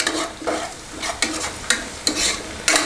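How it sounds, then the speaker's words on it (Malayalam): Biryani masala for a Kerala chicken dum biryani sautés over medium flame in a pan, with loud rhythmic stirring strokes scraping about every half second over a continuous sizzle, close up and without talk. "എന്നിട്ട് മീഡിയം ഫ്ലെയിമിലിട്ട് ഇളക്കി കൊടുക്കുക"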